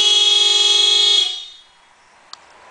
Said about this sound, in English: it will activate the panic feature, which is the horn honking.